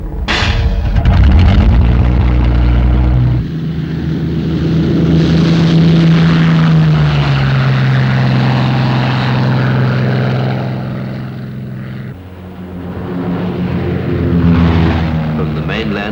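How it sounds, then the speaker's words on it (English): Royal Australian Air Force Avro Lincoln bombers take off from Broome on mainland Australia in 1952, their piston propeller engines making a loud, continuous roar that swells and eases over the whole stretch. "From the mainland at Broome, Lincoln bombers of the Royal Australian Air Force take off to reinforce the security patrol"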